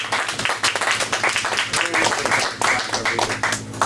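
An audience at a poetry reading claps in a brief, loose burst of scattered hands for a few seconds, with a voice speaking over and between the claps.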